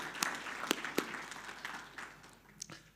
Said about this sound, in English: So please, a round of applause for Alex and his team.